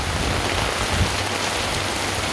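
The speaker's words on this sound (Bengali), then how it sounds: "খুব বৃষ্টি হচ্ছে" Torrential rain falls steadily around a home in Mawna, Gazipur, a loud, constant hiss of drops hitting surfaces nearby with no voices.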